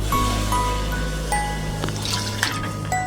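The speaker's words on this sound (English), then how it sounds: "the green beans are going in the pot" Home-canned garden green beans in broth pour and slide into a cooking pot, giving soft wet plops and drips over a low steady background hum.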